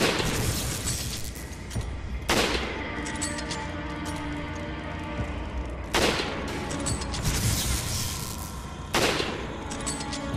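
Gunfire at enemies in the co-op game Resident Evil 5: sharp, loud shots that burst out every few seconds, some in quick rattling runs, over a busy game soundtrack.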